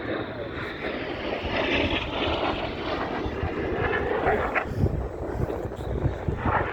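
Red Arrows jets of the synchro pair roar past at an RAF Cosford air display, a loud, rumbling engine wash with wind buffeting the microphone and no voices.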